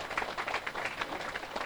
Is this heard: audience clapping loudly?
yes